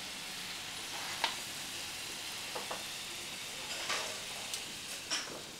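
Mushrooms sizzle and fry in a pan at a vegetarian hotpot restaurant, a steady crackling hiss with a few sharper pops and spits scattered through, fairly close and with no talking.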